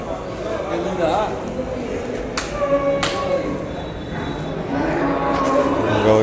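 Cattle at a livestock market in Vaniyambadi, Tirupattur, with a low moo rising briefly over a busy outdoor din of crowd chatter, a couple of sharp knocks and continuous background noise.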